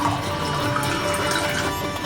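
Water pours in a steady, continuous stream into a mixer jar of finely ground coconut, an even splashing fill for a couple of seconds with no talking.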